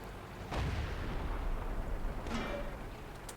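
A tank shell bouncing off the armour of an IS-4 heavy tank in World of Tanks, heard as a muffled boom followed by a rumbling, dusty impact under steady low battle noise.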